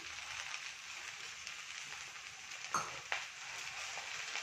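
Food frying in a pan while a Kannada gojju palya is cooked, a steady soft hiss with a few short clinks and stirring scrapes near the end.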